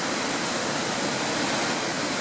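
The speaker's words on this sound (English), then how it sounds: "you can hear the waterfall" A waterfall in Banff National Park roars as a steady, broad rush of falling water, loud and close, with no talking.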